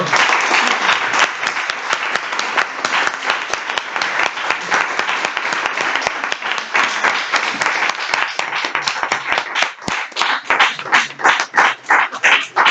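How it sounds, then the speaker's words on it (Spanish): Sustained, loud applause from a seminar audience after an art panel, dense clapping throughout that breaks into distinct individual claps as it tapers off near the end. "Un aplauso,"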